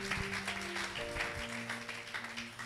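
Church congregation clapping along in brief bursts, moderately loud and close, mixed with sustained organ or keyboard tones underneath.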